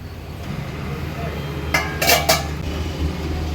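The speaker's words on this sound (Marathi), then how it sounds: "आता तयार झालेली ही पुरी भाजी आपण सर्विंग प्लेटमध्ये सर्व करून घेणार आहोत" Metal utensils clink against a serving plate and pot as potato bhaji and puri are dished up, a few quick clattering knocks over a steady low background hum.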